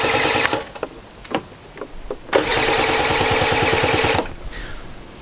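A scooter that has been sitting unused cranks with its ignition switched on, giving a few short sputtering attempts and then a nearby rattling run of about two seconds before it dies, with no speech.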